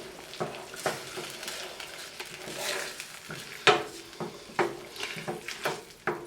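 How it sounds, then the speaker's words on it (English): Tomato sauce being stirred into a pan for chicken parmesan, with repeated scraping and knocking of a utensil against the pan over a soft sizzle, close and irregular. "get all of our sauce in there, stir it in."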